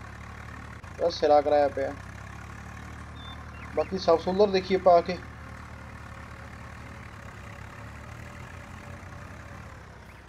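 Swaraj 744FE tractor in Farming Simulator 19, a low steady engine drone running throughout beneath two short spoken phrases, fairly quiet and even.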